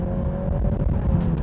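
A BMW Z4 under full throttle while merging onto a highway, its engine noise a steady, dense low roar heard from inside the cabin, with no talking.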